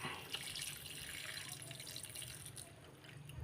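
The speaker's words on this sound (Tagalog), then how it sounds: "Ilagay na natin ating pangalawang gata o tinatawag na kakanggata" Second coconut milk extract (kakanggata) pours into a simmering dish, a soft continuous liquid splash and trickle heard close and faint for a few seconds.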